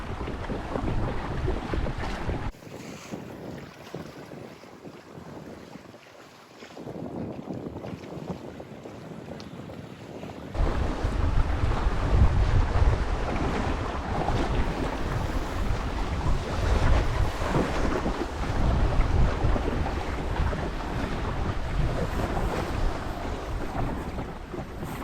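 Sailboat under sail at sea heading out to the isles, with steady wind buffeting the microphone and waves washing against the hull, growing louder and rougher after a quieter opening stretch.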